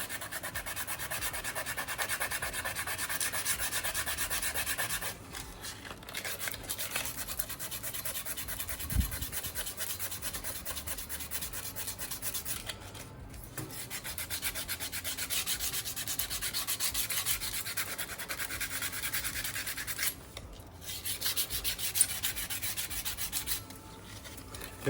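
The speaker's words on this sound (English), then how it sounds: "once you start sanding there, you'll just open it up and just keep following the rust" Steady abrasive rubbing of sandpaper sanding rust off a metal bike frame, long back-and-forth strokes with brief pauses, close and fairly quiet, no talking.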